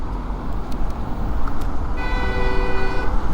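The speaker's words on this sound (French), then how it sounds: "Ça klaxonne derrière." A car horn honks from behind in city traffic near an electric scooter, sounding a sustained toot over the steady road noise in the second half.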